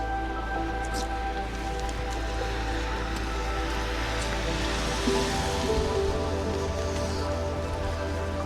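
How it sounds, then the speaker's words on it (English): Rain falls steadily during a windy walk with a Sheltie, a dense, even wash of noise with wind rumble underneath, continuous throughout, with no voices. "Yep, it's raining."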